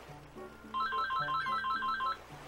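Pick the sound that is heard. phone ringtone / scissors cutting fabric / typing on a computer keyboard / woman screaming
phone ringtone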